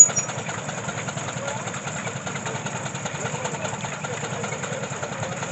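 A single-cylinder steam engine regulated by a governor runs steadily at a show, a fast even chuffing and knocking rhythm with a high whine above it, moderately close and unbroken.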